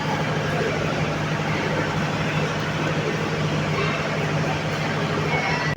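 The Narayanganj Commuter train stands at a Dhaka railway station platform, with a loud, constant rumbling hum of engine and platform noise that holds steady throughout.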